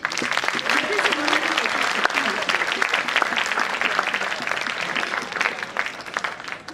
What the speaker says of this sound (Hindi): मैं चाहती हूँ एक बार आप तालियाँ बजा दें